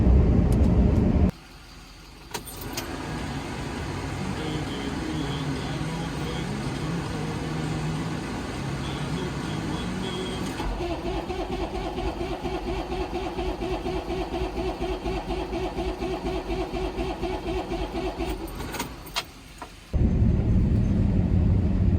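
A loader's engine on a farm cranks steadily for a long stretch without catching, a rhythmic, whirring starter churn that drones on for about seventeen seconds and then cuts off, with no one speaking.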